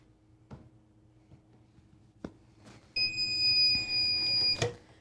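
A couple of soft clicks and thumps, then a sublimation heat press timer gives a loud, steady high-pitched electronic beep for about a second and a half before cutting off.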